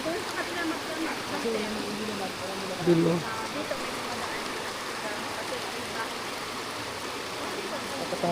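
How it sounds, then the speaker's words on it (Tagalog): A river in the Philippines flows steadily as a broad, continuous wash of water noise, with a brief voice speaking over it partway through. "magandang ilog."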